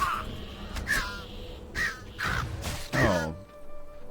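A bird in World of Warcraft: Battle for Azeroth caws repeatedly in harsh, evenly spaced calls, five or so loud bursts close by, with some game noise between them.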